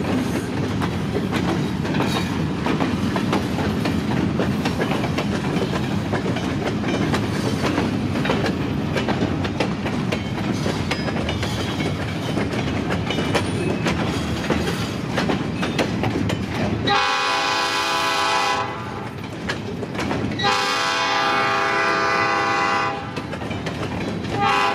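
Freight train with Duluth, Missabe and Iron Range converted ballast cars and an open box car rolling past close by, a steady loud rumble of wheels that gives way to long blasts of the horn near the end.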